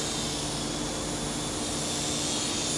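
A cheap two-channel XB Raptor Copter toy RC helicopter runs close by, its small rotor and motor giving a constant, loud buzzing whine with no pauses.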